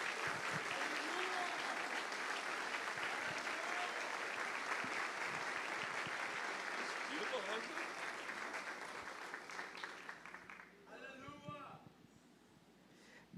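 A church congregation claps to welcome a pastor at a book-launch service, a soft, steady spread of hands that thins and fades near the end as a voice begins speaking.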